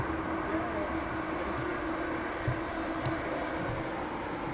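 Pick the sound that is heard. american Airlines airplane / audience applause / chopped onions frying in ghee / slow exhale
american Airlines airplane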